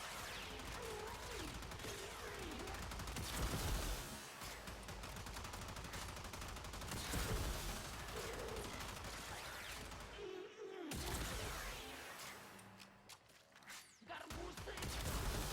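Tenet Tetra secondary fire in Warframe, built with critical delay, primed firestorm and heavy caliber, unleashes dense continuous bursts of gunfire with explosive thumps throughout, briefly pausing near the end.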